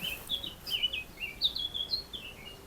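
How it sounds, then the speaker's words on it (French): Birds sing outdoors in a series of bright, repeated chirps and short trilled phrases at moderate distance, steady over a faint background hiss. "Le chant des oiseaux."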